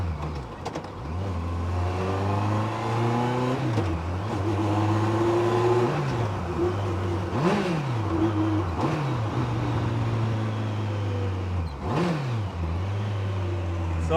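A 2007 Campagna T-Rex three-wheeler with a 1350cc Kawasaki engine drives along, its loud steady engine drone rising and falling through repeated gear shifts and revs for the whole stretch, close and continuous.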